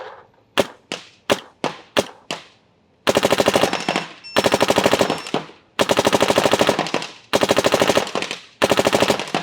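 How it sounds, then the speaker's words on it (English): A paintball marker fires in semi-auto, first several separate sharp pops, then fast trigger-walked strings of rapid shots in bursts with brief gaps between them, loud and close. "Just depends on how you guys are actually pulling the trigger to make it shoot as fast as possible in semi-auto."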